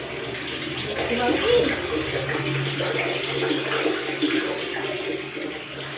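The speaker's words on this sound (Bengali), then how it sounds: "দেখো বন্ধুরা জল ভরা হচ্ছে" Water pumped by a motor pours into a deep cement rooftop storage tank, a steady rushing and splashing roar that is close and fairly loud and continues without break.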